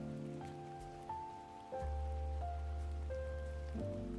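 Steady rain falls outside, a soft wash that grows heavier partway through and plays beneath sustained electronic music tones, with no voices.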